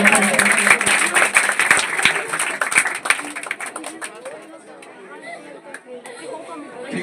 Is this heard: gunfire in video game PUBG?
no